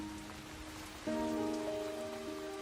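Heavy tropical rain on the Panama isthmus hisses steadily and densely throughout. Partway through, a sustained musical chord enters and continues over it.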